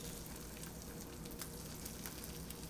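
Bacon strips fry in a pan with a soft, even sizzle and faint crackling pops, quiet and continuous with no talking.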